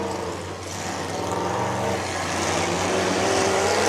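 A demolition derby car engine rumbling and revving loudly up close at a derby event, a rough continuous roar that swells toward the end.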